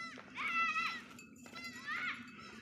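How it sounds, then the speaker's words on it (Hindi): Young goat kids bleat twice in long wavering cries, fairly close, in a windy hillside village setting with faint background noise. "पीछे अगर बकरी के बच्चों की आवाज़"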